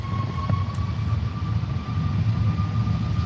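An EasyJet Airbus A321 takes off from Manchester Airport, bound for Lisbon. Its jet roar holds steady and broad, a low rumble with a thin whine over it, with no voices.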